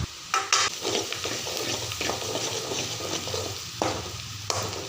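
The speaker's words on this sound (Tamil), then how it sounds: "மஞ்சள், கரம் மசாலா தூள், மிளகாய்த்தூள், மல்லித்தூள் போட்டு நல்லா பொரிச்சுக்கணும்" Onion frying in a pan with turmeric, garam masala, chilli and coriander powders, a steady close sizzle with continuous stirring scrapes and a few louder knocks of the spoon.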